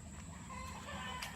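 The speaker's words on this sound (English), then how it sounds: "I can't with these chickens, they just won't shut up." Chickens clucking on a farm: scattered clucks and a distant crow-like call over a steady background hum, fairly faint and brief, no talk.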